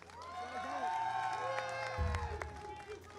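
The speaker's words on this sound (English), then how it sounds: "Give another round of applause for all the finalists." A crowd at a gaming tournament applauds and cheers for the finalists, faint and distant, with overlapping voices and a background hum.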